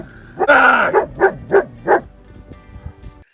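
A dog facing off a cougar gives a loud yelp followed by a quick run of four sharp barks, close by, then falls quiet.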